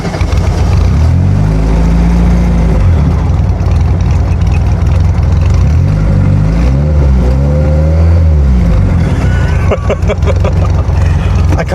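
A Mark II Reliant Reaper's engine rumbles with a heavy, booming low exhaust, loud and close throughout, swelling and dropping in pitch as it is revved, with talk faintly over it.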